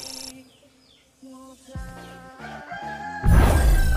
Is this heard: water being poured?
no